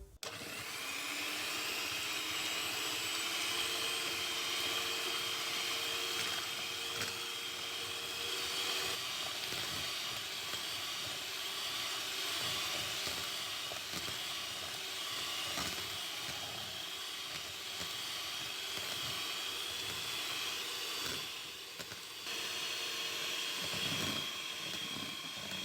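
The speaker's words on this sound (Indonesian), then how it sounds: "Kemudian kita mix dengan kecepatan yang tinggi" Electric mixer whirring at high speed beating eggs and sugar, a steady loud hissing drone that runs continuously with slight variations in pitch.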